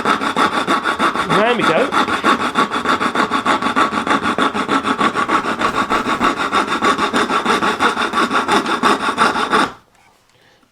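A hand saw back-cuts a wooden skirting board along a marked line in rapid, even rhythmic strokes, loud and close, stopping abruptly near the end; a brief voice speaks early on.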